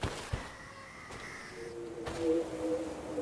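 A bird caws in a horror video game, with a few faint, drawn-out calls over a quiet, hushed background and no voice over them.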